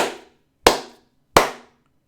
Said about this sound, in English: Can you just do me a favour and clap on your end?